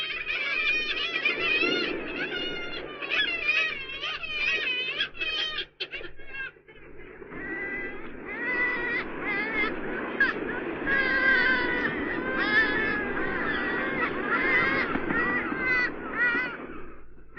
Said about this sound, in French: Plus curieux sont les cris des mouettes tridactyles.